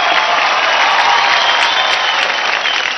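Loud, dense studio audience applause with some cheering fills the whole stretch after a dance performance on a televised dance competition, a continuous roar without gaps.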